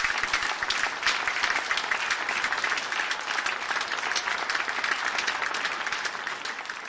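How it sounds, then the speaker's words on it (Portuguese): Sustained, dense applause from a studio audience, loud and even for the whole stretch and easing slightly at the end, with no speech over it. "Eu quero mais palmas."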